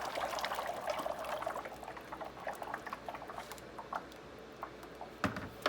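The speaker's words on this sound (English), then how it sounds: "Be sure and pour out of the same place that you poured from last time" Ceramic glaze poured out of a bucket, a wet pattering and gurgling stream that is busiest at first and thins into scattered drips and splashes, with a sharper knock near the end.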